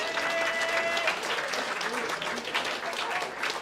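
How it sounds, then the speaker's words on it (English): A dinner audience bursts into close, loud applause with dense clapping and some cheering voices mixed in. "Give a round of applause to all the people watching on YouTube."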